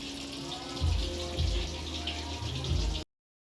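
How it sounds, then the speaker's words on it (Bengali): KFC-style chicken pakoras deep-fry in oil over medium heat with a constant bubbling hiss. Low surges in the hiss come at intervals, and the sound cuts off abruptly just after three seconds. "পকোড়া KFC স্টাইল চিকেন পকোড়াগুলো ভেজে নিচ্ছি"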